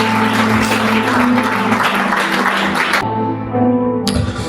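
Church congregation clapping and cheering in praise of the Lord, a dense sustained wash of applause over a low musical drone, dropping briefly before swelling again.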